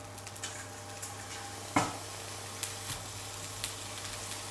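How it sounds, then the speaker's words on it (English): Broccoli semi-frying in a pan, a soft steady sizzle with occasional light clicks and one sharper clatter near the middle, otherwise quiet and even. "And broccoli goes straight in."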